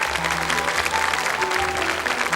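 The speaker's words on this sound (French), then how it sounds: "que je vous demande d'applaudir bien fort" A TV studio audience on a 1982 French children's talent show claps warmly, a brief, thick burst of many hands at moderate loudness with a faint tonal hum underneath.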